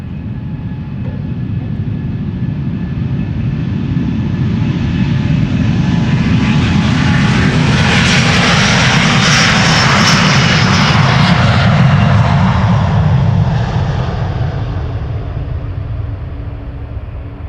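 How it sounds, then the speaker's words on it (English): A one-year-old Delta Air Lines Airbus A330neo, bound for Seattle, takes off from Amsterdam Schiphol with a loud, sustained engine roar that swells to a broad peak midway and then eases slightly as it climbs away. "time for the A330neo to Seattle. Delta Airlines flight 143. Turning and burning."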